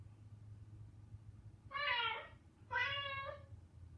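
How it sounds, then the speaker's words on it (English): A smart speaker plays recorded cat meowing: two drawn-out meows in a row, clear and close, over a quiet room hum. "play cat sounds"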